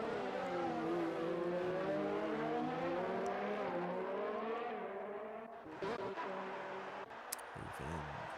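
A Formula 1 car in the F1 2019 video game braking into a hairpin, its high engine whine sliding down in pitch as it slows, then short revving bursts on the way out of the corner.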